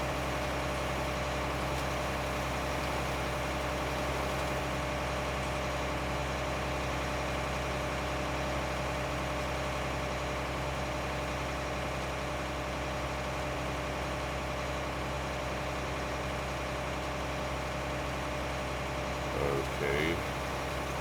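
A Quadtrac tractor engine idles in Farming Simulator 19, a steady low drone with constant vibration throughout, with a brief soft disturbance near the end.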